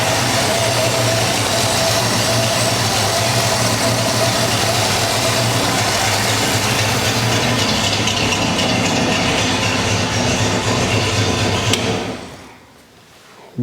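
An engine runs on its first fire, idling a little rich as a loud, steady, rumbling mechanical drone, then cuts off near the end.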